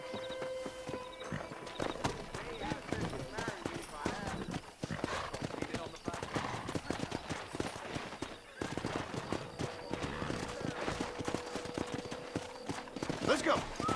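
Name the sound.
horses neighing and hooves in video game Red Dead Redemption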